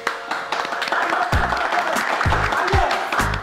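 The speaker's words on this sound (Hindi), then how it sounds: "आप मिर्जा साहब के लिए तालियां।" Clapping and applause for Mirza Sahib at a gathering in the Hashmat family's old house, broken by several strong low thumps, with a steady crowd din underneath and no clear speech.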